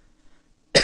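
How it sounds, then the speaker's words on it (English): A single harsh cough bursts out close and loud from someone with a bad cough, following a moment of near silence. "Again, please excuse my cough."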